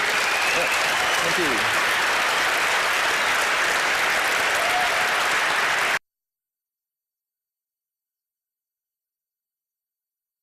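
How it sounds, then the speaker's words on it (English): A conference audience applauds a finished talk with steady, dense clapping for about six seconds before it cuts off abruptly, and a voice briefly says a word of thanks. "Please give a very warm applause to Ang and Michael."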